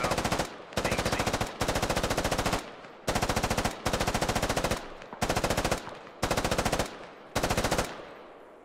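Automatic gunfire in the video game Squad, an M249 among the weapons, with loud close bursts of rapid rounds separated by short pauses, roughly eight bursts in a row.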